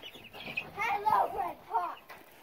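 Americana chickens in a backyard coop give soft warbling clucks and murmurs, a few short bursts close by that rise in the middle and fade.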